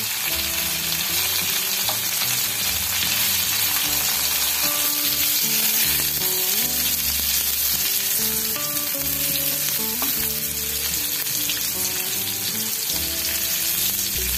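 Bitter gourd pieces fry in a little oil in a pan over medium-high heat, giving a steady, dense sizzle that runs unbroken throughout with tonal music playing underneath.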